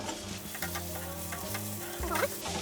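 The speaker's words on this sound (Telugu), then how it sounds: "సో అండి ఇదిగోండి వెజిటేబుల్స్ అన్నీ ఇదిగోండి బాయిల్ అవుతున్నాయి." Vegetables sizzle steadily in hot vegetable oil in a pan for sauce-free fried rice, a continuous close crackle with faint stirring clinks.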